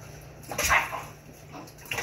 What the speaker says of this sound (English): now we have enough water in there that we can scoop up and rub on her belly